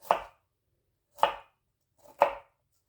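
Broccoli cut with a knife into bite-sized pieces, three separate crisp chopping strokes spaced about a second apart, close and clear with no talk.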